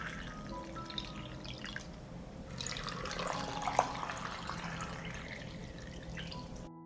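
Water trickles and drips into glass canning jars packed with apricots, a soft, continuous close-up pouring with small splashes and one sharper clink near the middle.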